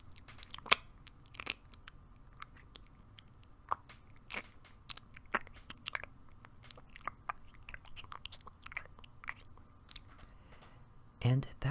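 A person performs a vocal imitation of sheep chewing and digesting grass, a run of soft, irregular crunchy bites and wet mouth clicks spaced through the clip over a low background rumble, close to the microphone.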